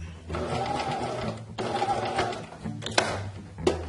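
A sewing machine stitches a pointed corner in two short, fast bursts of close whirring, followed by a few clicks from adjusting the fabric.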